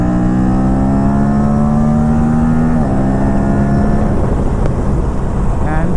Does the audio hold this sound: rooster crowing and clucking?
no